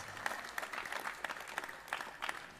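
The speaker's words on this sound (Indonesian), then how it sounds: "tepuk tangan untuk ke-6 penanya kita yang terbarokah" Faint, scattered clapping from an audience at a Maulid Nabi religious gathering, with a few distinct bursts of claps over a low background murmur.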